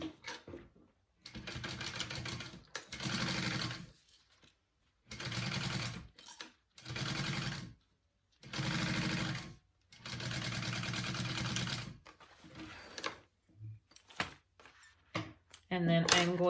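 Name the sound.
sewing machine basting accent fabric piece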